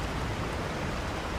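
Rain falls in the video game Resident Evil 4, a steady, even hiss of downpour lasting the whole moment with no voices over it.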